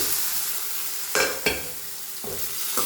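Boiled tapioca root (cassava) being added to hot coconut oil in a pan, with a steady soft sizzle broken by a few sharp stirring scrapes and bursts; no one speaks.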